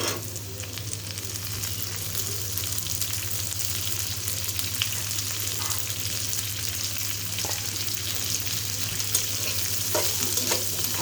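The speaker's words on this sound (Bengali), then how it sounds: "আলুটা আমি হালকা একটু ভেজে নেব।" Potatoes frying with onions in a pan in a village kitchen, a steady close hiss and sizzle of hot oil with occasional soft stirring clicks, under a low constant hum and with no voices.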